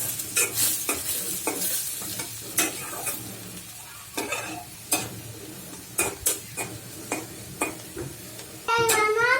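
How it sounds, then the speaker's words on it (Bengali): Onions fry in a pan while being stirred for a green banana mash, with scraping spoon strokes in an irregular rhythm over a steady close sizzle; a brief squeaky sound comes at the end. "এখন পেঁয়াজগুলা ভেজে নেব।"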